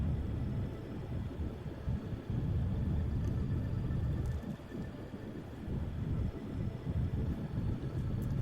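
Rocket engines firing at launch in Kerbal Space Program, a heavy, continuous low rumble with a roaring, wind-like texture that holds steady and loud for several seconds.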